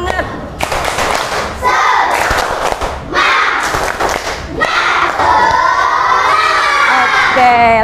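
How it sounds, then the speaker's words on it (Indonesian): A classroom of children performs a rhythmic clap-and-shout cheer, bursts of loud unison clapping and thumping alternating with excited shouting voices, close and energetic. "Tepuk semangat dulu ah."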